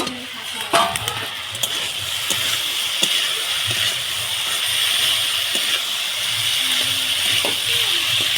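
Potatoes with turmeric sizzling in a pan: a continuous close frying hiss, broken early on by a few sharp knocks and scrapes from stirring, then settling into a steady sizzle.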